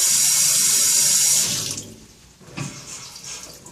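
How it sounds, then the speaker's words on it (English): Loud running tap water pours over hands being rinsed at a sink during a scrubbing demo, then cuts off to quieter dripping and faint handling sounds. "I can go back under and rinse as many times as I want to"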